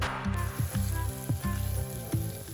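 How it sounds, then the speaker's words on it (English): Onion chunks sizzle in hot oil in a pan, a steady close frying hiss with a few spoon scrapes and a rhythmic pulsing thump running underneath. "Add some oil to a pan and toss in the onions, letting them cook until golden."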